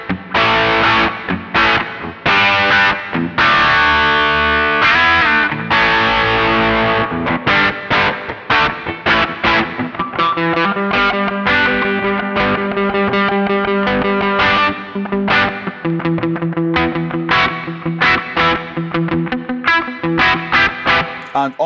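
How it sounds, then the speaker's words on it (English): Overdriven electric guitar through a Line 6 Helix preset playing loud, gritty chords and riffs with a thick distorted tone, continuous and up close with no talking. "Let's go to the overdrive."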